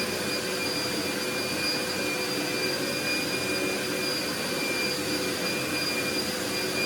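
A vacuum cleaner runs steadily close by, a loud continuous whirring roar with a high whine, unbroken throughout.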